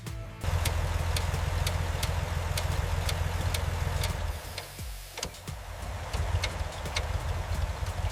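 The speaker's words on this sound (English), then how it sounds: "The engine fires, exhaust burps loudly, then settles into a smooth, rhythmic idle." An old engine, silent for 30 years, idles steadily and low after restarting, with a fast regular ticking on top; the idle dips briefly midway, then carries on.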